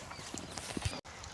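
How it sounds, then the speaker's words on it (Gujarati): A cow's hooves clop in a few soft, irregular steps on hard ground, faint and close, with a brief gap near the end. "જો ગીરાભાઈ આ ગાય છે જોઈ લે."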